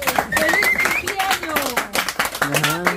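Hands clap in a lively burst at a birthday gathering, with excited voices and cheering mixed over the rapid, uneven clapping throughout.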